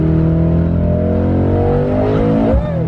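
A 500-horsepower Mercedes-AMG sports car accelerates hard from inside the cabin, its engine droning loud and steady with rising harmonic tones, then shifting near the end.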